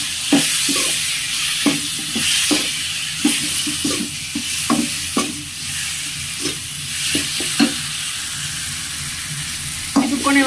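Fried eggplant gets stirred in a hot pan with spices, a spatula knocking and scraping in repeated close strokes over a continuous loud sizzle.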